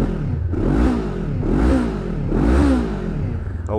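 A 2016 Honda CBR500R motorcycle with an aftermarket exhaust revs three times in a row, each blip rising and falling, loud and close, with a rumbling idle between the revs.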